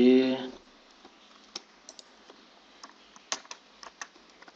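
Computer keyboard keys clicked to copy and paste while building a web template, with a short burst of speech at the start followed by sparse, separate key taps at irregular intervals, close and fairly quiet.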